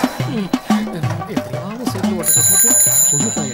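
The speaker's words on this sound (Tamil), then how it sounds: "யோ பெல் அடிக்குது" A bright, sustained bell rings over people talking loudly, entering partway through and holding steady while the conversation continues.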